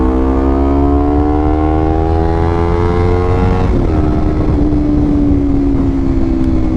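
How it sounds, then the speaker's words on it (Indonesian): A Honda CBR 250 RR motorcycle fitted with an Aero exhaust revs loudly up close. Its engine pitch climbs steadily for several seconds, then drops back and holds at a lower steady drone. "suara yang dihasilkan dari knalpot Aero ini enak coy"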